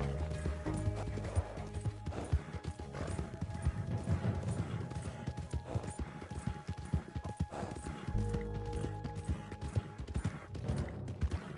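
Horses clip-clop across the ground in the video game Red Dead Online, with steady overlapping hoofbeats, an occasional whinny and low ambient game noise throughout.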